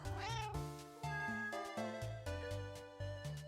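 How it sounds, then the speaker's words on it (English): A cat meows in the video game Enigma Heart, a brief mew heard over steady, rhythmic game music that fills the whole stretch. "Also, there's a cat."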